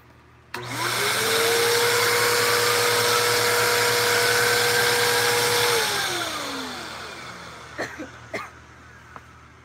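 Vacuum cleaner with a turbo brush switched on, a loud whining motor hum that runs steadily for about five seconds, then winds down, followed by a few sharp knocks.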